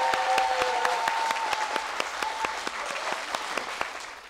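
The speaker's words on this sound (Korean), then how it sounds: "여러분 박수 부탁드립니다." Steady applause fills a hall at an education town hall meeting in Sangju, Gyeongbuk, with many hands clapping evenly throughout and a faint voice briefly audible at the start.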